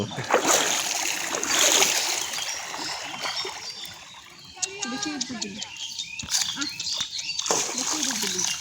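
Water splashing as people dive and play in a village pond in Bangladesh, uneven splashes near and far with people shouting and talking throughout.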